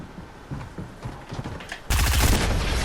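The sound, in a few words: gunfire in Fortnite video game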